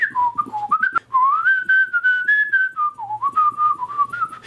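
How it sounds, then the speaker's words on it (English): A person whistles a wandering, continuous melody close to the microphone, bright and clear with brief pauses, alone without talk. "I can freaking whistle like a chimp."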